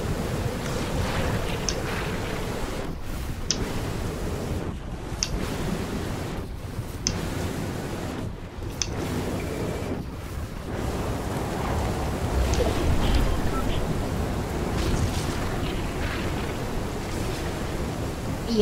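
Steady watery rush of swimming through water in the video game Fortnite, a continuous wash of noise with a few brief dips, no talking.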